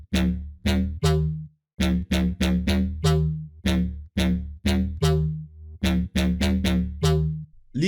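A punchy synth lead sample for bass house and tech house, named Lead Cop, fires short, loud staccato stabs in a syncopated rhythm, with sharp attacks, quick decays and brief gaps between phrases.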